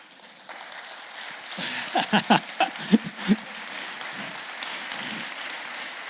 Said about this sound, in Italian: io ho finito il tempo, però questo applauso va a Filippo, alla famiglia di Filippo.